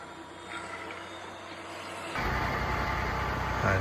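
A robot vacuum cleaner runs aboard a narrowboat, a steady mechanical whir that jumps abruptly to a louder, broader rushing hum partway through, close and continuous with no talking.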